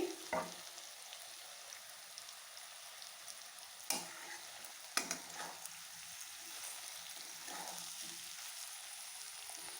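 Brinjal stir-fried in a pan, a faint continuous frying hiss with a few sharp clinks and scrapes of the spatula spaced apart, heard close with no speech.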